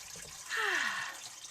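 A brief, faint gush of water from a tap, lasting about half a second in a quiet room.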